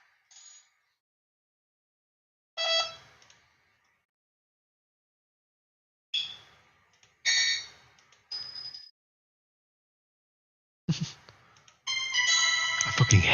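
Short chiming alert tones ring out one after another with long reverberant tails and gaps of silence, ending in a denser, sustained burst.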